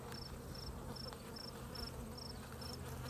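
Bees buzzing around their hives in an apiary on an early August morning, a steady dense drone filling the air with repeated faint high chirps over it and no talk.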